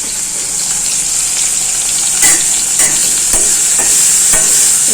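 Food fries in a kadai while being stirred, making a loud, steady hiss of sizzling oil. Scattered spatula scrapes and clinks cut through at intervals.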